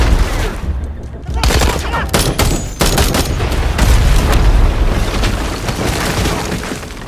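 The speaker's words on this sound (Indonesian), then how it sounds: "terjadi aksi baku tembak antara pasukan Delta Force dan kelompok teroris" A film gunfight between Delta Force soldiers and terrorists erupts in dense, loud bursts of rapid gunfire and booming impacts, near and continuous throughout with little pause.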